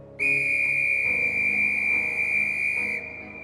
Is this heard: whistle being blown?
yes